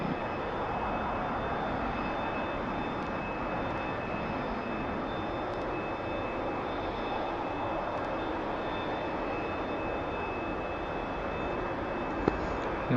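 Aircraft engine in a flight simulator video game while taxiing to the runway, a steady, loud, unbroken drone that holds at an even level throughout with no talking.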